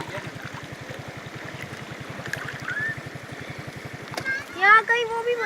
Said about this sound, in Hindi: ये देखो कैसी आवाज निकल रही है। ये पानी यहाँ आ रहा